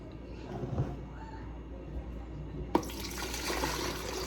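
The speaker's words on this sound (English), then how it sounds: "So we are just gonna pour all of our kefir in." Water kefir poured into a container, a soft trickle that swells into a louder, steady splashing stream after a brief clink, heard close at low level.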